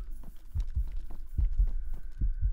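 Heartbeat effect in the DayZ video game: a steady, deep double-thump pulse repeating about four times, loud and close with a low hum beneath, no talking.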